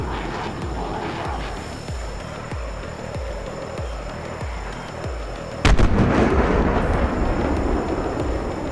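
Mid-range missile sonic booms in a video game land as a run of regular heavy thumps about every half second, followed by one sharp loud crack and a sustained roaring rumble.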